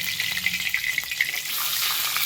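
Fish heads fry in hot oil with a steady, bright crackling sizzle, loud and close throughout with small popping bursts.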